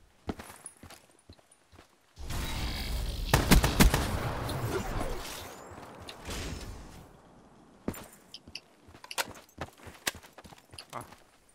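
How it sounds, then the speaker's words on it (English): Rocket launcher fire in a video game: a sudden loud blast swells into a sustained roaring burst, followed by scattered sharp impacts and clattering game effects. "Ruin and rocket launchers for the win."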